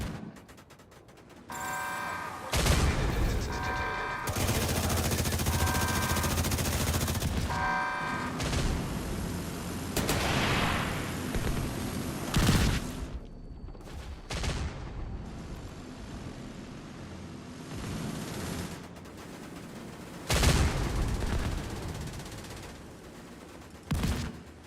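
Video game gunfire aimed at mortars during a raid: heavy, dense bursts of shooting mixed with booming blasts, loud and near, with a sustained roar in the middle and scattered sharper shots later.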